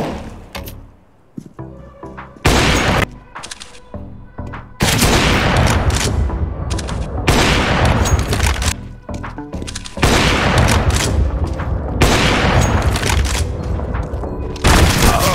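Flashbang grenades and gunfire in a free-to-play PC shooter: after a few scattered thuds, a series of loud booming blasts and dense bursts of shots fill most of the stretch at full volume.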